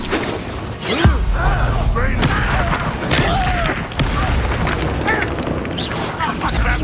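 Combat in Hogwarts Legacy with an Expulso explosion spell: booming blasts and crashing impacts over a dense, continuous wash of game noise, with shouted spell voices mixed in.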